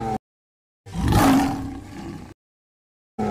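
A Bengal tiger of the Sundarbans mangrove forest lets out a single deep, loud roar lasting about a second and a half, close and clear, swelling and then fading, with no voices around it.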